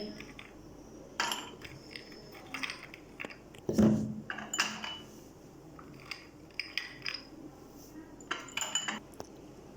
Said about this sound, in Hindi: सबसे पहले हम गिलासों में आइस क्यूब डालेंगे।